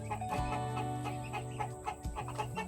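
Several chickens cluck in short, irregular bursts nearby, with steady low background noise underneath.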